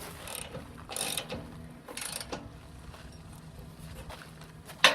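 A ratchet wrench snugs bolts on hitch brackets during a BP conversion hitch install, with a few bursts of clicking and a sharp clank at the end.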